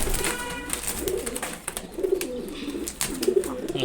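A five-month-old male pigeon coos in a few spaced, throaty rolling phrases close up, with some chirps and light background noise around the calls.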